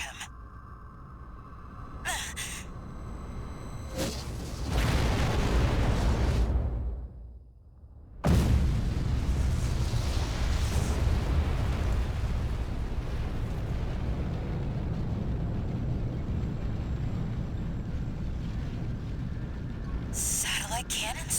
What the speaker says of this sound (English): Satellite cannons?